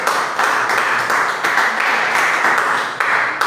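A church congregation claps together in loud, continuous applause, dense hand claps in pulsing bursts filling the room with no speech over them.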